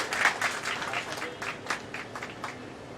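Audience applause at a public event in Bhopal honoring the Prime Minister, a short burst of crowd clapping that peaks early and then settles into steady, moderately loud patter.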